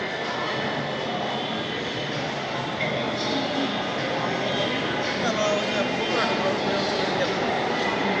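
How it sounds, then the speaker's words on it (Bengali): A metro train pulls into a station, a steady broadband rumble and rush of the carriages that holds for the whole stretch, loud and close, with people talking faintly over it. "ট্রেন আসতেছে ওটা।"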